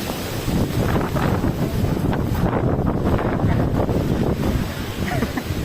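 Strong storm wind gusts in a village buffet the microphone in a loud, continuous roar with rumbling low-end surges throughout.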